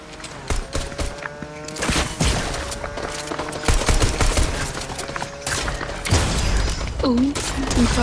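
Rifle gunfire and quick bursts of shots crack out in the Fortnite video game, mixed with mechanical clatter and game effects. The shots are loud and sharp, with a person talking over them.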